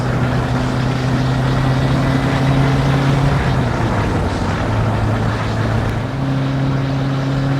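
Engine of a 1981 Renault R5 Turbo 1 drones steadily from inside the cabin while cruising, a loud continuous hum with a brief dip in pitch partway through.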